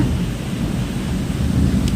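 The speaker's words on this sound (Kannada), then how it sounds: "ಮೋಡ ಗುಡುಕ್ತಾ ಇದೆ" Deep, continuous thunder rumbles loudly through steady heavy rain, with no voices.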